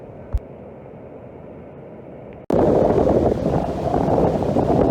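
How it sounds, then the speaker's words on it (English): Strong coastal wind on the Texas shore during Hurricane Nicholas buffets the microphone, a steady muffled roar that cuts out briefly and then returns much louder and harsher, with no voices. "there's much more wind out here today than there was yesterday."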